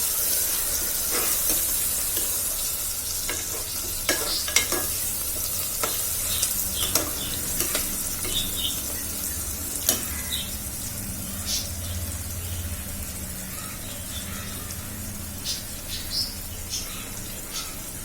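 Onions and spices such as cloves and cinnamon frying for mutton biryani, a steady dense sizzle and hiss with occasional light stirring clicks, close and continuous throughout.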